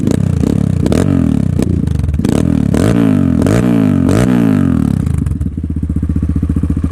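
A Kayo T2 Chinese dirt bike engine runs loud and close throughout, with a steady rumbling idle broken by repeated sharp blips of the throttle in the first five seconds before settling into an even chugging idle.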